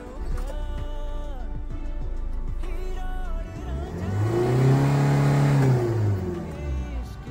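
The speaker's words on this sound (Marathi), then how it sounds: "एकदा गाडी स्टार्ट करून बघू" A Maruti Ertiga diesel car engine runs with a steady drone. A tonal whine climbs and falls through a rev, loudest midway, then settles back.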